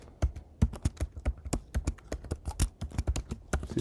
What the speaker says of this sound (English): well, I'll just type it in.